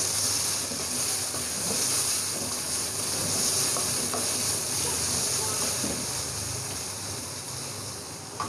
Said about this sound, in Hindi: तो अब हम इसमें ऐड कर देंगे टमाटर। इसको करेंगे मिक्स।